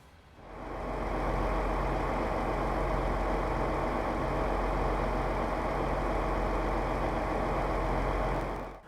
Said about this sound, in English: the engine sounds on the BR642 are reused from the BR612